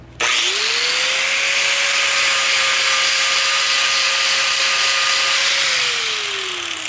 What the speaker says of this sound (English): that stuff comes off pretty easy now with the grinder